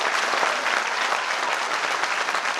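An audience applauds first-time guests at a program, dense steady clapping from many hands filling the room evenly from start to finish with no voices over it.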